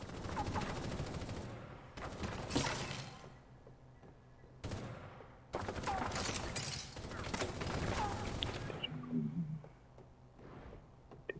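Gunfire in Super Mecha Champions comes in several loud bursts that are separated by short pauses, with rapid overlapping shots and mechanical clatter. Some quieter game sounds fill the gaps.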